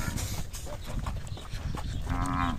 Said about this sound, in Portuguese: tem um gado aqui e os bois começaram a querer misturar